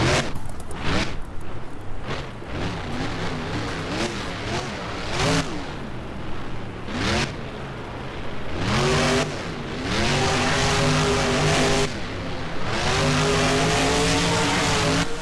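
Monster truck engine in BeamNG revs hard in repeated surges, climbing and dropping in pitch between bursts, loud and close, with brief gaps between throttle blips.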